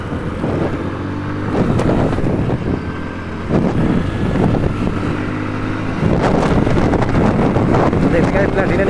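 Two commuter motorbikes, a Platina and a Splendor, race side by side outdoors, their engines droning steadily with swells of revving amid gusting wind noise, while a voice talks over them throughout.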